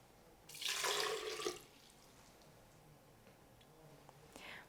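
A glass of water poured for an oat smoothie in a home kitchen: a short, bright splashing pour of about a second, then quiet with a few faint clinks and a brief soft splash near the end.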